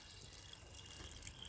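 A small garden water feature trickles softly in a back garden, a faint continuous patter of water drips and splashes with no voices.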